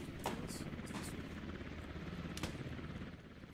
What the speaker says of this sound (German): Ach, hier ist ein Heli oder was?